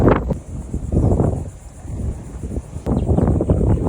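A breeze blows outdoors on Sullivan's Island, buffeting the microphone in low rumbling gusts that rise and fall across a few seconds, with no talk.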